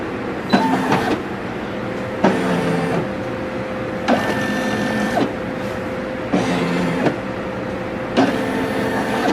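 A Brother SE 625 embroidery machine traces its design outline, with five evenly spaced bursts of motorized whirring, each about a second long and separated by quieter hum, heard close and without talk.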